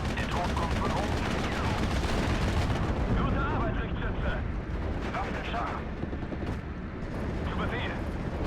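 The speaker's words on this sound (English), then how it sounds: "I'm just going to bomb this." Bombing strikes in the World War II strategy game Steel Division: Normandy 44 unleash dense, rumbling blasts and rolling explosions, loud and continuous, with crackling gunfire mixed in and a voice talking over part of it.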